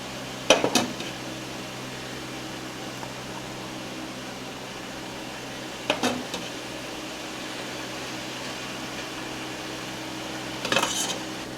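Glass canning jars knock against a surface as they are handled while being filled with black currant jelly, three brief clinks spread several seconds apart over a steady kitchen hum.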